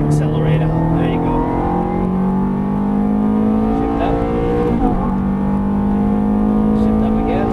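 A Ferrari F430 on a racetrack accelerates hard out of a turn, its engine note loud and close, with rising harmonic tones through the run and a brief dip in the middle. An instructor talks over the engine throughout.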